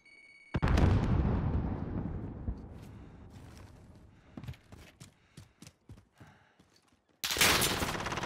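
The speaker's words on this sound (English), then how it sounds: "Grenade out!" A video game grenade explosion goes off as one loud, sharp blast, then a rumbling tail that fades over several seconds, followed by scattered distant gunfire pops and another burst of loud firing at the end.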